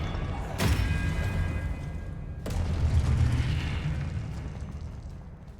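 The Expelliarmus spell from the video game Hogwarts Legacy fires a sudden bright burst followed by a deep rumbling boom that swells and fades, with a second sharp crack midway.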